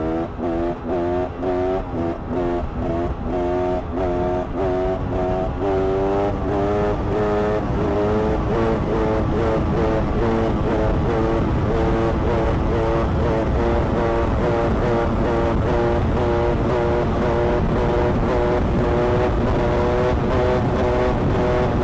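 A KTM 300 EXC supermoto two-stroke motorcycle engine revving hard during a wheelie, loud and close, with a buzzing, rising and falling pitch that holds at high revs for most of the stretch.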